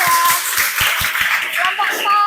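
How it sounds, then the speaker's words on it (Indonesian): A group in a classroom or hall gives a round of applause: dense, loud clapping from several people lasting a couple of seconds, with voices mixed in. "beri aplaus untuk kelompok"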